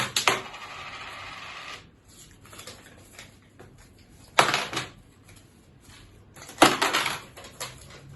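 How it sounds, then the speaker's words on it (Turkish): Coins from an opened piggy bank clink and spill in bright metallic bursts, a long rattling pour at the start followed by two more sharp cascades of dropping change. "Bir sürü bozuk paralar oğlum ya."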